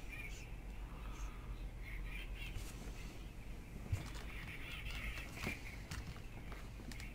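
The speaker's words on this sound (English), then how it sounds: "Ah, the birds always come out to play." Birds calling outdoors, probably crows cawing in scattered bursts over steady low background noise and rustling, fairly faint and distant, with a thump or footstep now and then.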